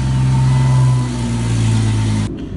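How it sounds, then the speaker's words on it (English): A Jeep XJ engine running close by after a cold start, fitted with a cowl intake using the factory airbox: a steady loud mid-range engine drone with some revving, then cutting off abruptly near the end. "let's go ahead and do a cold start with this setup"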